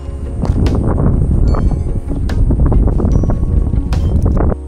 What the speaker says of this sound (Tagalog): Kaya sobrang lakas ng hangin ngayon dito.